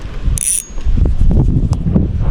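A Ryobi Zester spinning reel is cranked on a boat, its close, loud mechanical whir running steadily with short clicks, while a brief high whine sounds early on.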